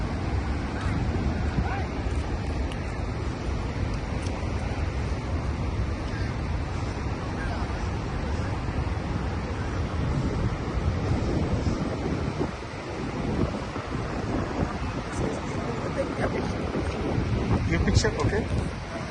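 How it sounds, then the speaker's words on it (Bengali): A steady, heavy roar of falling water at Niagara Falls fills the whole stretch, loud and unbroken, with gusts of wind buffeting the microphone. "এই যে পানিটা পড়তেছে"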